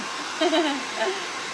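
A hair dryer blowing steadily up close to dry a Firefly decor transfer, a constant whooshing hum with faint voices briefly beneath it.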